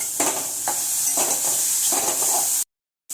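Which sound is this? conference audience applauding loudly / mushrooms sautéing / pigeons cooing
mushrooms sautéing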